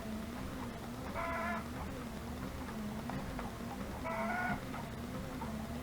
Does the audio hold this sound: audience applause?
no